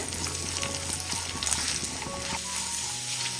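Raisins frying in hot ghee in a pan alongside cashews, a dense steady hiss of bubbling fat with faint crackles, close and constant, no one talking.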